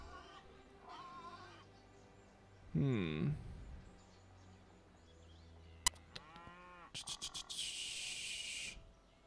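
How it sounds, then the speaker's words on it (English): Cattle mooing in Civilization V, a low drawn-out bovine call rising over quiet game ambience, followed by a short click and a brighter burst of interface or music sound. "Looks like we got some cattle."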